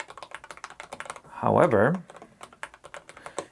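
Keys clatter steadily on a Varmilo APT109 mechanical keyboard in fast, crisp, close taps, with a short stretch of speech cutting through the middle of the typing.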